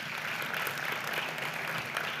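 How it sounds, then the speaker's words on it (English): Audience applause at a digital transformation summit in the Middle East and Africa, a steady wash of many hands clapping, fairly loud and continuous without speech. "please, a round of applause"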